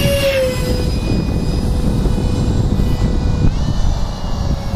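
A 64mm electric ducted fan F-15 model jet flies in to land, its steady high-pitched whine running continuously and fairly loud throughout, with a rising tone near the start.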